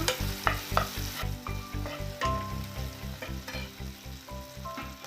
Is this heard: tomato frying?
yes